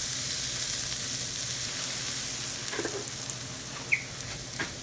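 Food sizzling and frying in a pan while preparing stuffed zucchini, a steady close hiss with a few faint clinks and pops.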